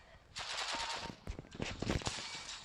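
Gunfire in the video game CS:GO, a rapid series of loud close shots in a dense burst with a few separate cracks after it, over a faint background.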